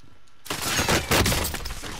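Gunfire in a first-person shooter video game, a sudden dense burst of rapid shots and crackling impacts that starts abruptly and keeps going, loud and close.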